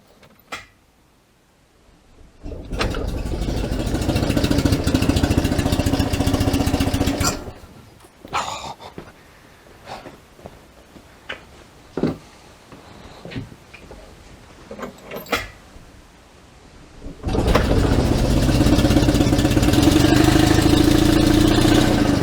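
A small Invacar engine idles loudly in bursts, stopping in between for clattering and knocks, then running steadily again at the end.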